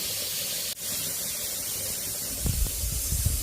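A pressure cooker cooking rice gives off a steady, loud, broadband hiss of steam that carries on throughout, with a brief dip early on and some low knocks and rumbles near the end.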